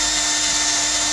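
A power drill spinning a Scotch-Brite pad to rough up old, smooth brake pads from a 1969 Honda CD90Z, a steady loud whirring grind held close throughout the short stretch with no voices.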